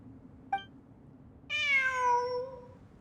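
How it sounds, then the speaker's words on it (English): A cat in a video game gives a short chirp, then after a pause a long, clear, drawn-out meow that trails off, alone over a quiet background. "It really is a cat."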